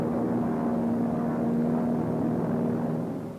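A propeller airplane flies over Alaska near Juneau, a steady droning engine with a constant humming tone that stays loud and even throughout before easing slightly at the end, heard alone with no talk.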